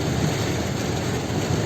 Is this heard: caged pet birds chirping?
no